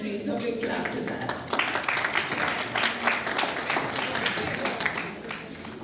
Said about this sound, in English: So big clap to that.